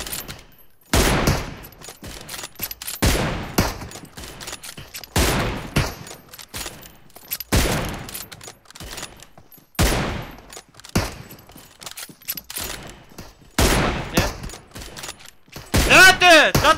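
Rapid gunfire bursts from the mobile game PUBG Mobile, repeated sharp volleys spread across the clip, loud and close, mixed with game sounds and occasional talk.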